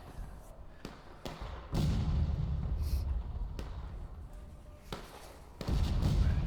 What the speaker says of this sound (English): but yeah, it's artillery